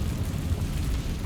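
Confringo fire spell explosion in the Hogwarts Legacy video game, a brief, loud, low rumbling blast with a roaring burst that fills the whole moment, with no voices.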